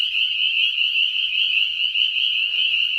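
Spring peeper frogs, thousands of tiny ones, chorus from a pond in spring as a dense, continuous high-pitched peeping that fills the air steadily and loudly, with no voices.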